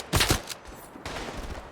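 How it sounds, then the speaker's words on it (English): An artillery barrage in the World War I shooter Tannenberg, with two sharp close blasts in quick succession, a fainter third, then a rumbling roll of distant impacts. "someone's calling in artillery"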